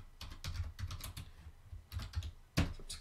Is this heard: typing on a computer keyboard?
yes